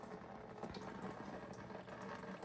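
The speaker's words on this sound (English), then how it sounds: "Keep on dripping and filtering at the same time." Homemade mead drips and trickles steadily through filtering tubing, a continuous soft liquid wash with no voices.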